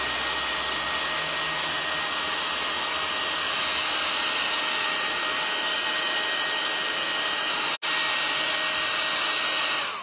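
Hair dryer blowing steadily to dry paint on a piece of furniture being given a Provençal patina, a constant loud airy whir, close by, cut briefly by a split-second dropout near the end, no talk.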